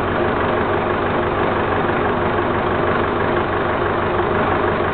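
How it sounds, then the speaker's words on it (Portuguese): Farm tractor engine idling, a loud, steady low mechanical rumble running continuously without variation and heard alone. "Pode desligar o trator."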